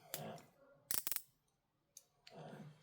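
Small scissors snip eyebrow hairs in a quick cluster of four or five close, crisp clicks, with soft talk before and after.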